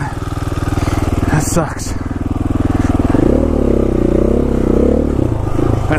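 A dual sport motorcycle engine chugs loud and close while riding through soft, soupy mud on a West Virginia trail, then revs harder and warbles near the end, with a brief spoken remark over it.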